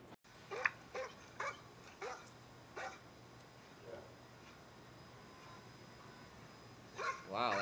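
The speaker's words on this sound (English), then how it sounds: "Wow, that's a really old-looking dog." An old dog barks several times in short, spaced bursts, fairly distant against a steady low background hum, with one more bark near the end.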